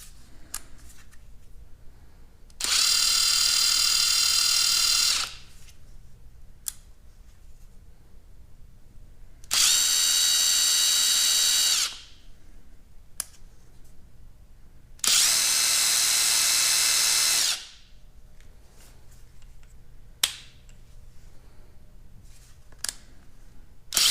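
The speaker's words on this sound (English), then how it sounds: "I used the Kobalt 24v Max Brushless Impact Driver to do a Subaru Forester tire rotation." A Kobalt 24V brushless impact driver spins lug nuts off a Subaru Forester wheel during a tire rotation, firing three loud, even bursts of about two to three seconds each, separated by quiet pauses with faint handling clicks.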